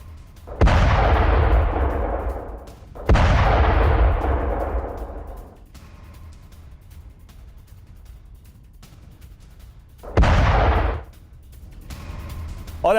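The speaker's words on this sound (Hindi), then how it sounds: "गाजा में इजराइल का विध्वंसक हमला, हमास के ठिकाने पर बमबारी" Bombardment of a Hamas position in Gaza by Israeli forces: three loud, deep booming blasts, each with a long rumbling decay, spaced several seconds apart with low background noise between them.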